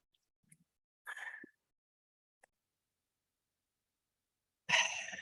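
Two short, harsh coughs close to the microphone, separated by a few seconds of near silence, with a faint click between them.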